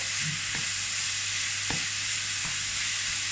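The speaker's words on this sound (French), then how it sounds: "Hop, on met le bœuf. On fait revenir tout ça." Beef sizzles in a hot wok, a steady bright hiss of frying with a few sharp scrapes of stirring scattered through it, close and with no voices.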